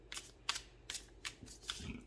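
Round tarot cards handled and let fall rather than shuffled, giving a few short, light papery flicks and slaps spaced about half a second apart, close and quiet, with no talking.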